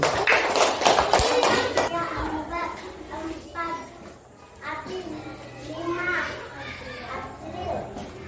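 Schoolchildren in a classroom clap their hands together in a dense burst of quick claps lasting about two seconds. Children's voices and chatter follow and continue afterwards.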